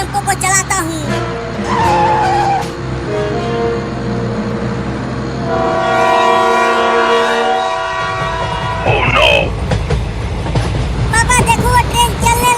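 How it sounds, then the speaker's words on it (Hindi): A train pulls away with a loud, sustained horn blast and rumbling rail noise, the tone shifting as it gets moving, with screeching and clatter toward the end. "पापा देखो, वो ट्रेन चलने लगी।"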